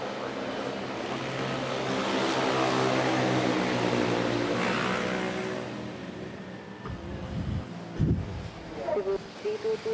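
Airbus A330 airliners at Manila's Ninoy Aquino International Airport, a loud broadband engine roar that swells and fades across the clip, with air traffic control voices and brief thumps near the end.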